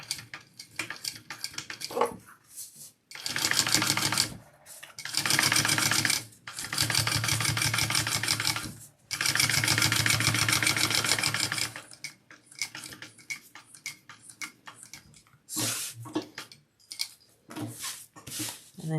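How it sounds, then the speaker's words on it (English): A sewing machine stitches along the bottom seam of a fabric wallet in several bursts of rapid mechanical whirring, separated by pauses with handling clicks and shuffling. "now I'm just going along each side of this bottom seam"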